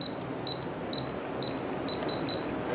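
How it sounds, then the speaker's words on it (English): A LaGard electronic safe keypad on a Dominator safe gives a series of short, thin, high-pitched beeps in a quiet room, rejecting a disabled code. "it will give us 3 beeps and the safe won't unlock because the code has been disabled."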